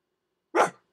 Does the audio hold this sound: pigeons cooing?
no